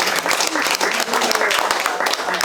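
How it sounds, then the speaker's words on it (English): Audience in a room at a botanical garden celebration applauding, a dense steady wash of many hands clapping, loud and close, with voices mixed in. "Deanna, please give her a round of applause."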